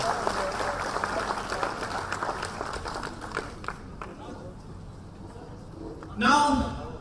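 Audience applause at a live seminar for medical aspirants, a broad, moderately loud wash of clapping mixed with voices that fades out before a person starts talking near the end.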